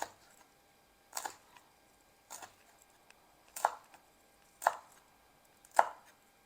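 Fresh chili peppers being chopped on a board: five sharp, separate knife strikes spaced about a second apart, close and distinct, with quiet pauses between them.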